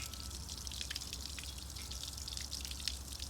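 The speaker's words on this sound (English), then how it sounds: "it's coming from that hose fitting and it's running down and dripping over here" Fluid drips from a leaking hose fitting on a rough old Yamaha two-stroke, a faint, steady patter of small drops against a constant low hum and hiss.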